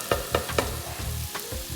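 Fresh corn kernels fry in a pan with vegetables, a continuous close sizzle with three quick spoon scrapes near the start and softer stirring after, no voices.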